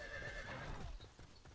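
A horse in the War of the Roses video game gives a loud, close whinny, followed by hoofbeats clopping over low rumbling battle noise.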